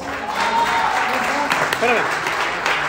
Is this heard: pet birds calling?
no